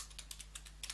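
Typing text on a computer keyboard in the nano text editor on a Linux command line, a quick run of light, close keystrokes over a steady low hum.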